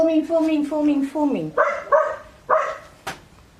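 Dog barks and yips in bursts, fairly close, with a person's voice talking over them.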